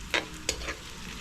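Onions being stirred and sautéed in a hot pan for fish curry, a steady low sizzle with two quick scraping stirs near the start, close by.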